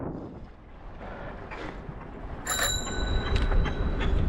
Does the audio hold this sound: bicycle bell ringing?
yes